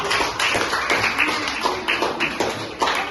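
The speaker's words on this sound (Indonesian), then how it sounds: "kita kasih aplaus dulu yuk biar semangat" A classroom of students applauds a group after their presentation, with loud, close hand clapping that fills about three seconds in a dense, slightly rhythmic patter and no talk over it.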